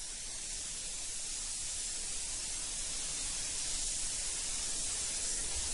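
A spray gun puts light dust coats of paint onto a car, giving a steady, even hiss of fine mist that goes on without a break at moderate volume.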